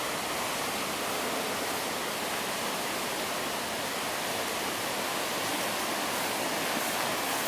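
Floodwater rushing in Arvada, Colorado, a dense, steady roar of flowing water that holds constant throughout without pauses or voices.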